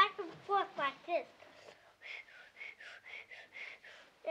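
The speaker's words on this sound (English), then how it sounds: "And I whistle with two fingers to my mouth." Whistling done with two fingers in the mouth, heard as a run of bright, repeated rising whistle bursts in a steady rhythm, coming after a short stretch of speech at the start.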